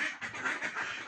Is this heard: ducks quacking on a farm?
yes